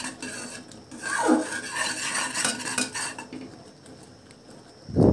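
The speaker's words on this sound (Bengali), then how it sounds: "অনবরত এভাবে নাড়তে হবে, না হলে নিচে লেগে যাবে।" Thickening custard cream for buns being stirred nonstop in a pan so it won't stick: repeated scraping, rubbing strokes of a utensil against metal, close and fairly loud, ending with a heavier knock; no speech.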